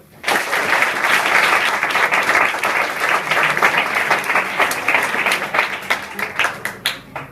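Class 10 and 12 students at an inter college in Azampur, Uttar Pradesh, break into loud, sustained group applause. The dense clapping holds steady for about seven seconds, then thins into a few scattered final claps.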